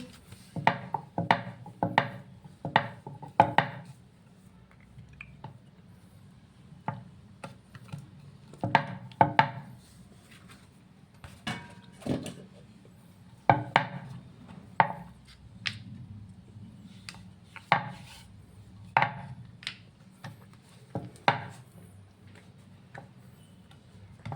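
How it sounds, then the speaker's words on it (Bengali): Luchi dough being rolled out with a little oil, an irregular series of close wooden taps and knocks from the rolling pin against the board. "আমি এখন লুচিটা বেলে নিচ্ছি।"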